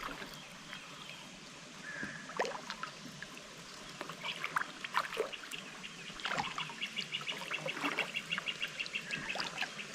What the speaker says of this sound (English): And I hear water. Like maybe a waterfall.